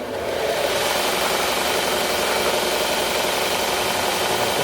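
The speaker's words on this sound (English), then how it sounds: "This is a 6x48 belt sander." A Wen 6x48 belt sander runs continuously, a steady, loud, close broadband whir and hiss with no pauses or voices.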